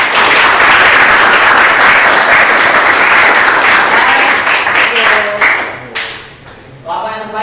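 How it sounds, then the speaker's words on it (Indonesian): A classroom group applauds together, a loud sustained burst of clapping lasting several seconds before tapering off near the end, with a voice speaking over the tail. "Aplaus untuk semua."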